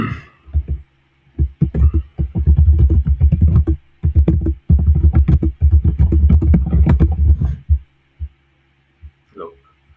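Rapid clatter of keys on a computer keyboard, typed in quick bursts with brief pauses, close and fairly loud, with no talking.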